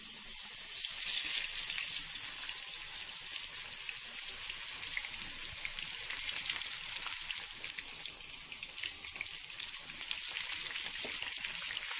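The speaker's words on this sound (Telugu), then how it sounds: "అన్ని ఒకటేసారి కాకుండా కొన్ని వేసుకుని మనము దీనికి డీప్ ఫ్రై చేస్తున్నాం" Bitter gourd pieces deep frying in very hot oil give a steady, soft crackling sizzle throughout, with no talking.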